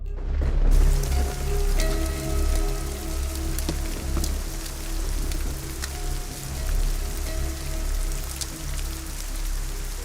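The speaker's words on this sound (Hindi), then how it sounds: "उस रात तेज बारिश हो रही थी और ओले गिर रहे थे।" Heavy rain pours steadily at night, a dense hiss of drops hitting surfaces with sharp scattered impacts that could be hail, occasional low rumbles underneath, continuous and fairly close.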